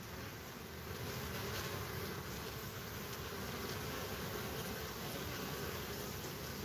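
Bees flying in and out of a hive entrance, some carrying pollen, make a steady, close insect buzz that runs continuously over faint background noise.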